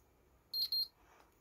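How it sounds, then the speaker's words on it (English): A digital multimeter in continuity mode gives two short, high-pitched beeps in quick succession, faint but clear over quiet background. "There's the beep."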